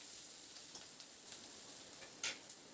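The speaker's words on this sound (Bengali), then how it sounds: "পেঁয়াজটা দিয়ে মিনিট 2-3 জন্য নাড়াচাড়া করে বেশ একটু হালকা লালচে রং ধরা পর্যন্ত ভেজে নেব" Faint, light sizzle of chopped onion frying in a pan, with a few soft scrapes and ticks from stirring and one sharper clack near the end.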